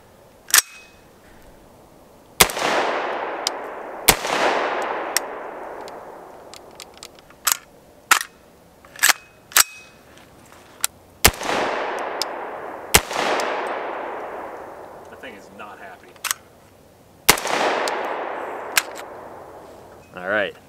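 Rifle firing Fiocchi 150 grain ammunition through a YHM muzzle brake, sharp loud reports spaced a few seconds apart, each trailing off in a long echo, with smaller clicks and impacts between shots.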